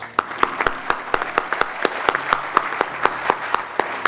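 Audience applause at a university political science graduation ceremony as award winners are congratulated, a steady patter of many hands clapping with sharp individual claps standing out, filling the room without speech.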